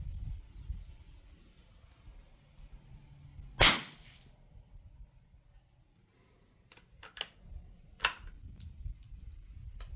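A Winchester Model 52 rifle fires a single sharp crack at close range, followed by a few fainter clicks and mechanical clatter of the action in otherwise quiet surroundings.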